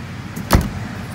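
Rear door of a BMW 600 microcar shutting, a single solid thud with a dull, fridge-like close, near and loud, alone without talk.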